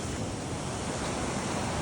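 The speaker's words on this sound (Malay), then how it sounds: "hujan ni." Rain falls steadily at a riverside campsite, a continuous, even hiss of drops with no voices.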